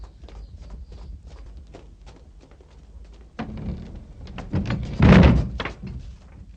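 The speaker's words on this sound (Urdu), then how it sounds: "دروازے بند کر دو" Doors being pulled shut in a dramatized Urdu story about Imam Hassan, with light tapping steps leading into a couple of heavier wooden thuds, the loudest near the end.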